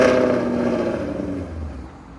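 A Ford Mustang GT 5.0L V8, a 2017 car fitted with long tube headers and a Borla catback exhaust, gives a brief moderate rev. The engine note rises and then settles into a deep rumble, with no talk over it.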